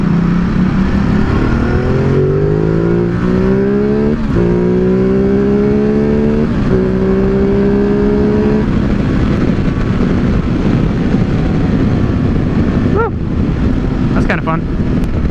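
Intake roar of a 2017 Ducati Multistrada 950 on a demo ride, loud and close, rising in pitch through repeated accelerations with brief dips between gear changes, with wind noise and a rider talking over it.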